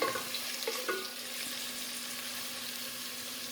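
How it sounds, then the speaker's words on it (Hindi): Minced keema sautéing in a pan for keema aloo matar, stirred with a wooden spoon, producing a steady hissing sizzle after a couple of brief knocks of the spoon at the start, close and even, with no speech. "मेरे पास है ये प्यारा सा लकड़ी का चम्मच, मैं चलाऊंगी"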